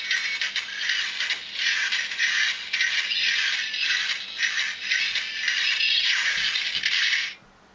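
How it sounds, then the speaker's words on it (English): NECA ED-209 toy from Robocop playing its walking sound effect: a continuous bright mechanical rattling clatter with slight rhythmic pulsing, heard close for about seven seconds before cutting off. "you can hear him walking towards Robocop"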